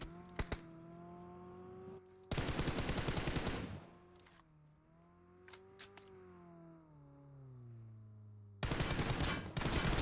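Bursts of rapid video game gunfire from long-range shots in a battle royale scrimmage, two dense volleys separated by a gap filled with a droning engine-like hum, then another burst near the end.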